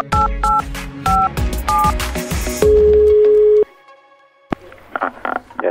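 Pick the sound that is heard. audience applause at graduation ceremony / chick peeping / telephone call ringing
telephone call ringing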